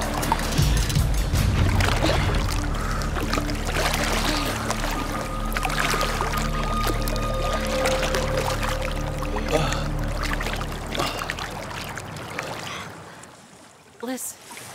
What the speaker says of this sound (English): is that the sound of a boat?